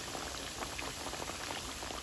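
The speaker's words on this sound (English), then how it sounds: "There's the frying chicken." Breaded chicken frying in hot oil, a steady close crackle and bubbling sizzle that holds evenly throughout with no voices.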